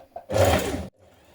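A sewing machine runs one short, loud burst while stitching lines of gathering stitches around the bottom of a dress sleeve, then stops into near quiet.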